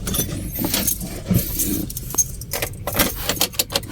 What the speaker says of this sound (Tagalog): Teka, yung susi ko nawawala.